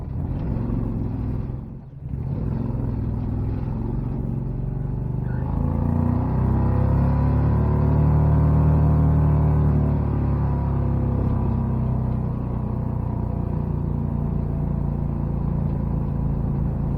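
A Renault buggy powered by a Predator 670 V-twin pulls away from a standstill, its loud, close engine drone climbing steadily in pitch as it accelerates, with no voices over it.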